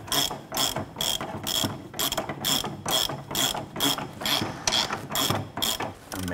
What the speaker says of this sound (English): let's go ahead and tighten down this bolt and nut here.